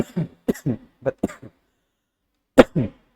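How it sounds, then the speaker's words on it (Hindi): A person coughs repeatedly in several short, harsh bursts, then pauses before two final coughs, loud and close. "सॉरी, माफ कीजिएगा खांसी के कारण।"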